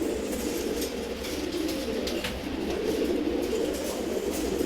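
A male Giribaz pigeon coos in low, continuous murmurs, close and steady against a constant background hum.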